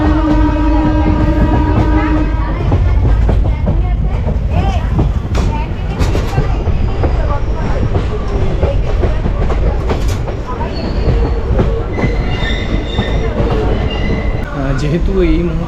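An intercity express train from Kolkata towards New Jalpaiguri rumbles steadily along with rhythmic clattering of wheels on rails, a continuous loud roar, with people talking faintly in the carriage.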